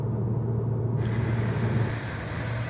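Alpine Formula One team vehicles roll into motorway services in Germany, giving a steady, close engine and road rumble with a low droning hum that holds evenly throughout, with no voices.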